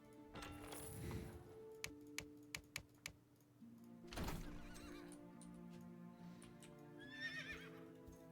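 Horses neigh in the real-time strategy game Eyes of War: a loud whinny near the start and another mid-clip, mixed with sharp keyboard typing clicks, soft hoof clip-clop and steady game ambience.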